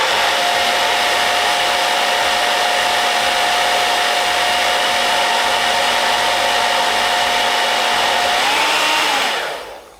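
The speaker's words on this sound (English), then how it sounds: "just sort of like plonk it in your diffuser and give it a couple of seconds" A hair dryer fitted with a diffuser blows steadily and loudly up close while drying wavy hair, its whine holding constant before dipping in pitch and shutting off at the end.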